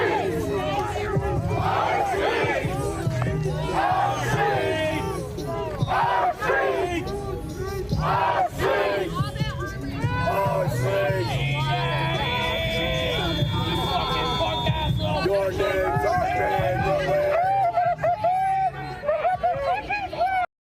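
A large protest crowd in Minneapolis shouts and chants continuously, with many voices rising and overlapping in a dense roar, fairly loud and steady throughout, and a brief high whistle-like tone partway through.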